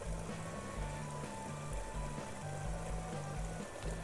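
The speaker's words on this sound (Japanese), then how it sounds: "これ田んぼに今水が流れ込んでいる音ですね" Water flows steadily into a rice paddy beside a field path, a continuous soft rush and trickle heard through an open car door, mixed with low wind rumble and a faint rhythmic hum.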